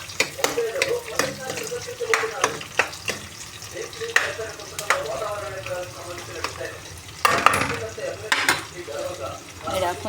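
Chicken curry ingredients frying in a pan, a crackling sizzle broken by repeated sharp spoon scrapes and clinks of stirring, close up.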